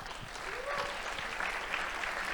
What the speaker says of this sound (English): Give a round of applause for these honorable mentions.